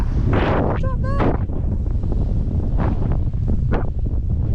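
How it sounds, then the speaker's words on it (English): Strong wind blows over a clifftop on the Isle of Skye, buffeting the microphone with loud, continuous rumbling gusts. A few brief vocal sounds show near the start. "It is quite windy."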